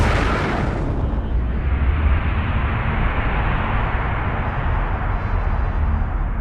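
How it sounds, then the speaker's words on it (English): A huge Big Bang explosion effect hits with a sudden loud blast, then rolls on as a dense, steady, rumbling roar that darkens slightly but never fades. "It started with a Big Bang."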